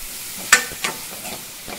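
Garam masala stirred into a masala frying in a pan, giving a soft continuous sizzle with a couple of distinct scraping strokes of the spoon, close and without speech.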